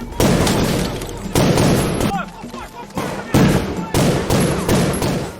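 Gunfire from a cop shooting at gangsters during a field operation: repeated loud bursts of rapid shots in clusters, broken by short pauses, with faint voices between volleys.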